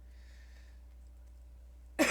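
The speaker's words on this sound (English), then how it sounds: "I still have a little bit of cough." A single sharp, loud cough bursts out abruptly at the end after near silence with faint background voice traces.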